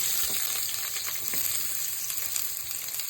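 Sliced onions sauté in hot oil with fennel, cinnamon and cashews for a one-pot mushroom biryani, producing a dense, even, close-up hiss and crackle that barely changes for the whole stretch.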